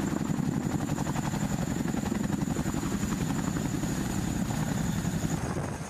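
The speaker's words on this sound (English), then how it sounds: "CH-47 helicopter." A CH-47 Chinook heavy-lift helicopter drones loudly and continuously, its rotors producing a rapid, steady thudding beat under a constant engine whine, with no voices.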